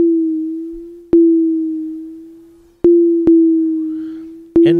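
A Nord Micro Modular synth holds a steady, pure tone shaped by a smooth triangle wave LFO, broken by a few sharp clicks at irregular intervals, with a short burst of other sound at the end.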